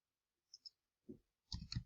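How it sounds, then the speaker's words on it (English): Computer mouse clicks come in two pairs: a faint, sharp double click, then after a pause a louder double click with a fuller thump, close and isolated against near silence. "I'm going to go up here and click on Advanced Search"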